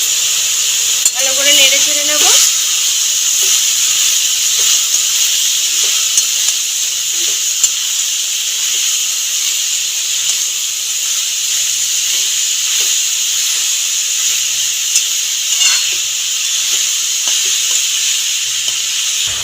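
Slit green chillies hit hot oil in a frying pan and sizzle with a loud, steady hiss that holds for the whole stretch, with a brief clatter early on.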